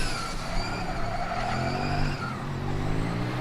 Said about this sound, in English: we do hear some more combustion engines starting in the pits